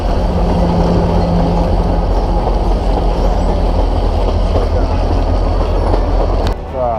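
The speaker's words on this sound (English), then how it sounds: "so here comes one of the trains" A train on the Lehigh Gorge in northeast Pennsylvania rumbles loudly past nearby at about 20 miles an hour, with heavy continuous low roar and rattling wheels, briefly easing near the end.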